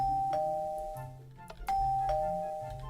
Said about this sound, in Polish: Już dzwonię dzwonkiem